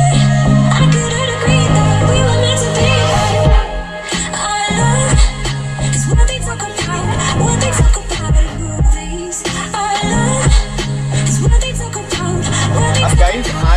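Loud music with a heavy, thumping bass beat plays at full volume through the Sony speakers of a 2022 Mahindra Scorpio-N Z8L diesel automatic, steady and dense throughout.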